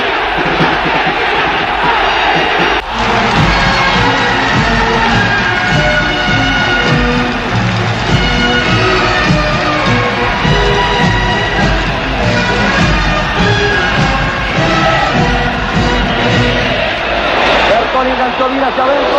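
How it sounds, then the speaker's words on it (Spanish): A stadium crowd at a football match, roaring with whistling and cheering, loud and dense throughout, with a commentator talking over the continuous din. "El presidente soportó una silbatina bien diferenciada del aplauso deportivo."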